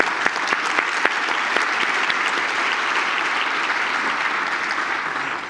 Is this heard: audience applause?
yes